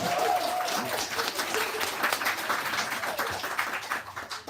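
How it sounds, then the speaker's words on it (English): A crowd at a book event applauds in a big sustained round, dense clapping throughout, with a brief voice near the start. "which is the biggest round of applause"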